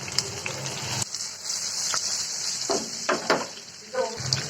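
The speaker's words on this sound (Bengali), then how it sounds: "ইলিশ মাছ সরিষার তেল দিয়ে ভাজলে আলাদা সুন্দর একটা গ্রান পাওয়া যায়" Hilsa fish frying in hot mustard oil gives a steady, close hiss and sizzle with a few brief clatters of stirring, and it keeps going without pause.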